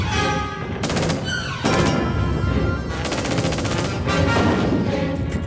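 A World War I British Vickers machine gun fires rapid, loud bursts of shots close by, with heavy echoing reports and no talk.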